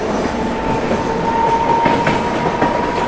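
Rajdhani Express train running on rails in India, a steady loud rumble with clickety-clack wheel beats and a sustained metallic wheel whine throughout.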